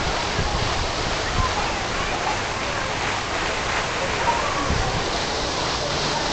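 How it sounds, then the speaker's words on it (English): A river flows in a steady broadband rush, loud and continuous, with faint voices in the background during daytime. "River."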